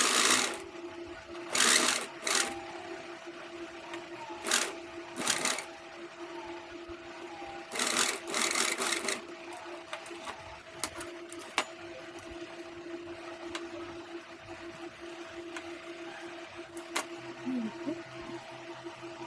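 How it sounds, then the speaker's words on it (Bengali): A sewing machine stitches a blouse in repeated bursts of rapid, close mechanical whirring separated by brief pauses and handling noises, with no talking. "আমি আরও একটু সেলাই দিয়ে নেব।"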